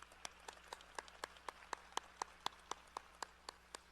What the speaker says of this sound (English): Let's give a big round of applause to all the honorees from the College of Health Professions